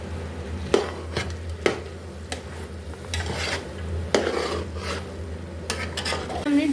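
A spoon mixes cashews, almonds, raisins, peanuts and pistachios in a pan for carrot halwa, with a close scraping stir, a few sharp clacks against the metal and a faint sizzle underneath.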